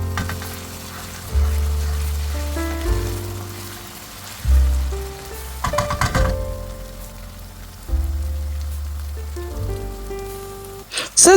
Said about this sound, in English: I'll fry this for a few minutes.